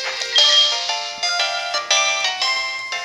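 A phone call ringtone in Pokemon HeartGold: a bright, repeating electronic melody of short chiming notes, loud and clear with no talk over it.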